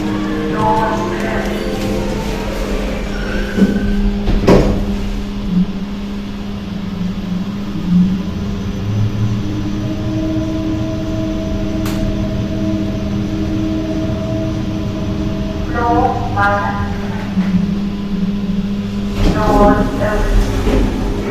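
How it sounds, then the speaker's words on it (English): A Kone NMX 14 lift rides through a shopping centre in Plovdiv with a continuous low motor hum and a steady whirring drone. Brief tonal sounds briefly rise at the start and again near the end. "They also installed a more recent lift in the shopping centre. It's a Cone NMX 14. Let's ride it."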